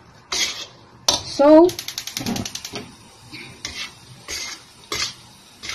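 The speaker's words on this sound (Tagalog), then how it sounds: "gigisa lang natin ang ating monggo guys hanggang sa magano siya matuyo" Mung beans being sautéed in a home kitchen pan give a series of metallic scrapes and clinks as they are stirred, spaced across the clip, with a brief spoken word near the start.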